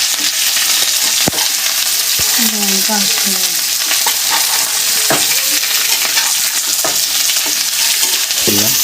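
Potato and papaya pieces fry and sizzle steadily in a hot pan for a Bengali rui fish curry, with repeated scrape-and-stir strokes of a spatula over a continuous close, loud crackle; no one speaks.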